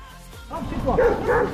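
A dog barks and yips close by, two loud bursts in quick succession, aggressive toward cyclists on a road in Turkey.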